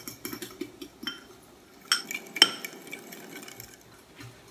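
Apple pancake batter with sugar stirred in a bowl, a utensil clinking and scraping against the sides in quick irregular strokes, with a couple of sharper knocks midway, fairly close and moderately quiet, no voices.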